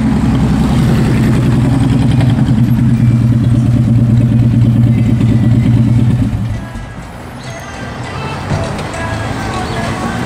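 Several motorcycles idle before a group ride, a loud close rumbling engine drone that holds steady and then drops off partway, leaving quieter outdoor engine noise behind.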